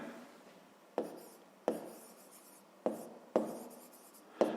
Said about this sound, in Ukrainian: Давайте так і запишемо.